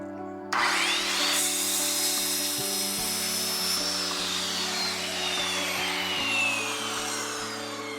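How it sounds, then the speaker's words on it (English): Close, steady rasping strokes of a saw cutting through wood, continuous and loud, with a low mechanical hum running underneath. "That's a lot of sawing."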